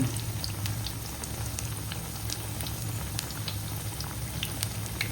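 Bhajis (fritters) sizzle and bubble steadily in hot oil in a kadai, a continuous close crackling hiss with scattered pops, no talking.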